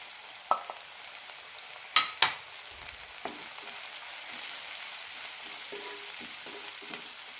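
Tomato sautéing in a pan with chilli, coriander and turmeric powders for a brinjal masala fry, a soft steady sizzle broken by a few sharp spoon clicks and scrapes against the pan.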